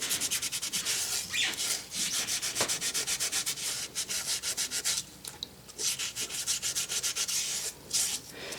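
Scrubbing rust off vinegar-soaked metal with a Scotch-Brite pad makes a close, loud, steady rasping scour in rapid back-and-forth strokes, broken by a few brief pauses, with no talking.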